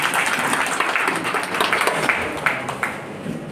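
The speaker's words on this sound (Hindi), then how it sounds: "जोरदार तालियां हमारे ये भी रामपुर हाट से।" Audience applause at a grand farewell ceremony for retiring loco pilots in Rampurhat, a steady wash of clapping with a few sharper claps standing out, lasting throughout at moderate volume.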